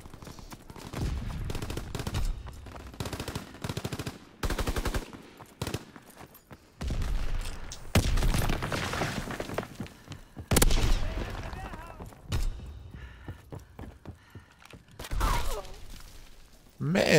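Call of Duty WWII online multiplayer gunfire, repeated bursts of rifle and machine-gun shots in uneven clusters, some close and loud, with players talking between volleys.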